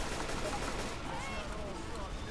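AK rifle gunfire in the video game Left 4 Dead 2, a dense, loud burst of rapid shots filling the clip without pause.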